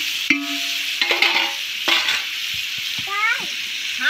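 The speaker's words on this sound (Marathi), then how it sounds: "दादाने याच्यात आपला कांदा टाकलेला आहे, कांदा फ्राय होतोय." Chopped onion frying in a large biryani pot, a steady sizzle with intermittent stirring scrapes and clinks; a voice speaks briefly over the cooking.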